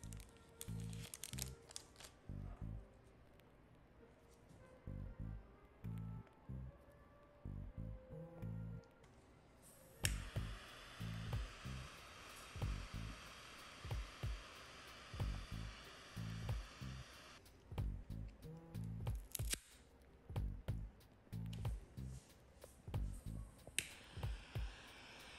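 Kauai Island Prince shade-grown robusto cigars are cut and lit: sharp clicks and snaps, crinkling, and a soft hiss of a lighter flame, close and intermittent with quiet gaps.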